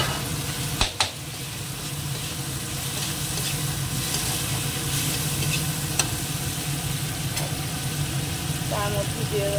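Tomato goes into a pan of masala for a prawn curry and fries with a steady sizzle, a brief clatter of the spoon near the start, low and continuous throughout.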